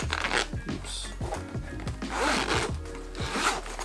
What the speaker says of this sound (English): Yeah, zipper.